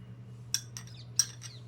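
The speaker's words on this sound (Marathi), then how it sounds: "ह्या बटाट्यांना मी असे टोची मारून घेणार आहे सर्व ठिकाणी अशा टोची मारायचे आहेत" Fork tines jabbing into whole potatoes, several sharp little pricks in two pairs of clicks over a low steady hum, with no talk.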